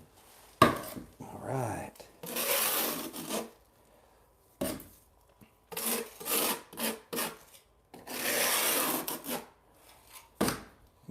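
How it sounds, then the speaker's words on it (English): Tile mortar being scraped off while a bathroom floor is tiled, heard as repeated rough rasping strokes in bursts of one to two seconds with sharp knocks between them, close and loud; a voice speaks briefly. "now let me scrape this away"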